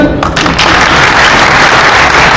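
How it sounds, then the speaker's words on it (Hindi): Audience at a pharmacy student event clapping, a loud dense wash of applause that starts with a few sharp claps and then holds steady and close. "तो ताली बजाओ यार।"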